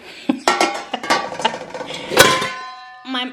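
A heavy stainless steel pan being handled in a home kitchen, with sharp ringing metallic clanks and clinks from repeated knocks against other cookware, loud and close, followed by a short voice at the end.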